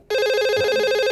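An indoor telephone begins ringing abruptly, a steady electronic ring sounding close and clear with nothing else over it.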